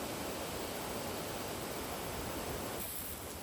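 Water rushes from an Orbit Pro Series metal-bodied garden hose nozzle on its horizontal sweep pattern, a loud, broad, continuous spray like a small waterfall that stays steady throughout.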